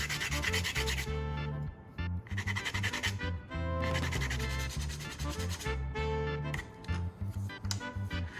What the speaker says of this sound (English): I'll use sandpaper to refine the cut surface, making it flat and smooth